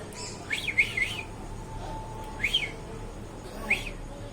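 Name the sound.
pet myna bird calling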